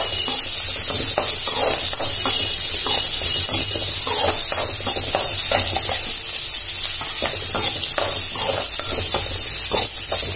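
Shallots and slit green chillies fry in a pan with a loud, continuous sizzle, broken by frequent sharp crackles and spatters and a steady hiss across the whole stretch.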